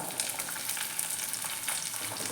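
Small onions (shallots) fry in a hot pan with garlic and ginger, giving a steady, close, dense sizzle and crackle throughout, with no talking.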